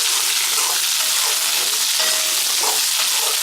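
Small onions fry with turmeric in a pan, sending up a loud, steady hiss of sizzling with occasional stirring scrapes.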